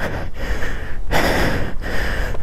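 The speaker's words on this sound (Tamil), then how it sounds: "மூச்சு வாங்குது" Heavy, loud breathing of a person out of breath after climbing uphill at a Kodaikanal city viewpoint, with several close, rushing breaths and pauses between them.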